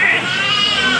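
Goats at a crowded livestock market bleat loudly and close by in a wavering cry, with people's voices running underneath.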